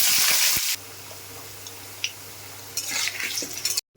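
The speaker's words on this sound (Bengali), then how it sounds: "এখন আলু ভাজছি মাংসর আলু" Potatoes for a chicken curry fry in oil in a wok: a loud burst of sizzling, then a quieter simmering hiss with a low hum, a few utensil clinks and a renewed sizzle near the end.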